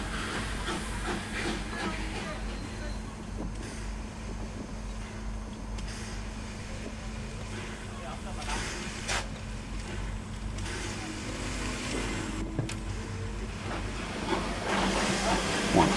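A Hornby J15 model steam locomotive moves off from the loco siding on a model railway, giving a steady, fairly loud mechanical running hum and hiss that continues throughout without a break.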